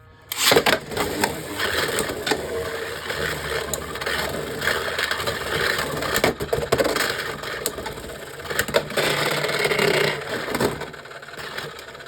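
Two Beyblade X tops, Viper Tail and Night Lance, battle in a stadium, a close, loud grinding whir with sharp clacking collisions scattered through roughly twelve seconds, no talking.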